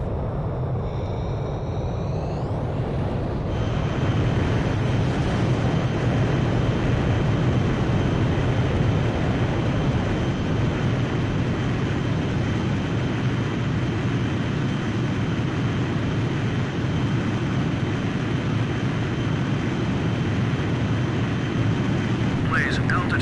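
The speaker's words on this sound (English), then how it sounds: "Blaze, you are cleared for takeoff." A fighter jet's catapult launch from an aircraft carrier in Ace Combat 5: a rising whine gives way to a loud, sustained engine roar that holds steady throughout, with a faint voice in the background.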